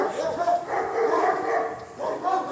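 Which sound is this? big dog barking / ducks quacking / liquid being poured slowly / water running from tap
big dog barking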